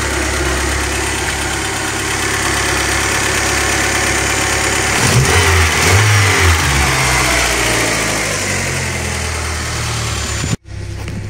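A cold VW Golf with a suspected dead Hall sensor in the distributor runs loudly and steadily up close, its mid-pitched engine holding a raised rumble with a brief rev near the middle before cutting off abruptly.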